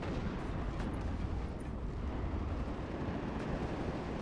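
RPG rockets firing and exploding in WARNO: a steady, dense wash of roaring blasts and gunfire with a few faint sharp cracks, with no distinct individual shots.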